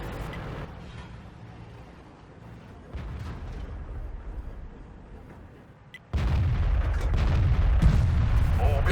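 A heavy tank cannon fires at a KV-3 in World of Tanks on the Swamp map, a loud sudden boom near the end that follows quieter engine rumble and a smaller thump, with a sustained roar afterward.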